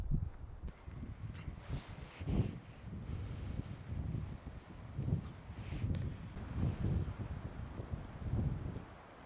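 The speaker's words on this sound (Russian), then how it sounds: "Вон, видите, какой ветер." Gusty wind buffets the microphone on a snowy mountain near Beloretsk, Bashkortostan, in winter, rising and falling in loud rushing waves close to the mic, with no talking.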